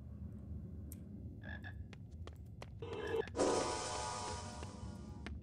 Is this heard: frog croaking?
yes